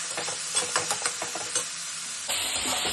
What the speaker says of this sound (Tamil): பச்சை மிளகாய் ஒரு 4 மிளகாய் போட்டு நல்லா வதக்கிடணும்.